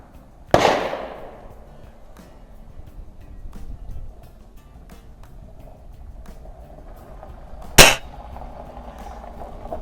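Two sharp shots from a Weihrauch HW50S spring-piston air rifle firing heavy .177 pellets, each a single crisp crack with a brief ringing tail, several seconds apart, close, over quiet outdoor background.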